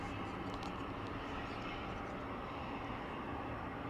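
Steady, distant jet roar from an airplane at DFW International Airport, a broad continuous rumble of even loudness with no talk over it.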